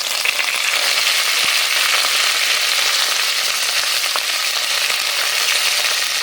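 Curry leaves crackle and sizzle in hot oil in a pan, a dense, steady frying hiss with scattered sharp pops, loud and close throughout.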